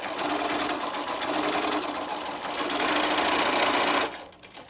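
A sewing machine runs steadily and close by, anchoring elastic into the seam of a cloth face mask, a continuous whirring stitch that stops near the end, with no talk.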